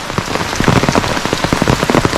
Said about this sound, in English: So it's begun to rain, and quite heavily too